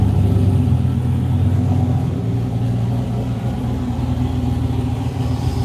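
A car engine idles on a dyno during a shakedown run, a steady low rumble that holds at an even level throughout with no revving.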